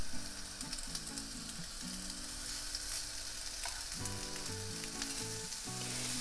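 Meatballs made from fatty ground meat sizzle steadily in a very hot, unoiled cast iron pan, a dense continuous frying crackle with occasional scraping and clinking from a utensil.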